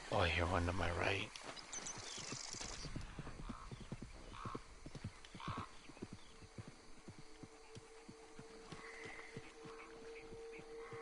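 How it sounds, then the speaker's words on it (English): Horse hooves clip-clop in a steady series of sharp clacks, with a whinny or loud burst at the start and faint background tones, from the video game Red Dead Redemption 2 Online. "Look at this horse."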